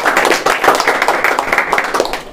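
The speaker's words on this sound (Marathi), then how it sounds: "तर एकदा जोरदार टाळ्या होत्या त्यांच्यासाठी" An indoor audience at a student quiz show claps enthusiastically, a dense, loud burst of applause with rapid overlapping hand claps that carries on without pause.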